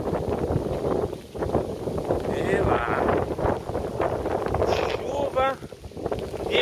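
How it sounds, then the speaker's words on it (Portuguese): Gusty wind on a cold, rainy day on a street in Portugal, roaring steadily against the microphone with faint voices in the background. "Vento."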